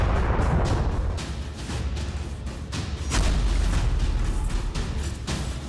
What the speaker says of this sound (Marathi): बॉम्ब, तोफगोळे, मिसाईल, रणगाडे, स्फोट आणि आग हे युक्रेनमधलं सध्याचं चित्र आहे.